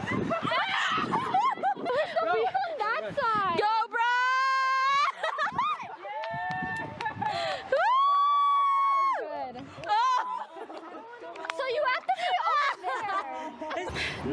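People at an outdoor family campsite scream and shriek in long, high, wavering bursts, mixed with laughter and excited talk.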